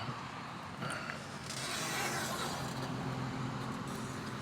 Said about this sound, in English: I'm going to let this car from behind me get past me.